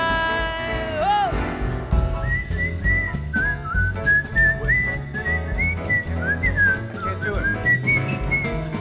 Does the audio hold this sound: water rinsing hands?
no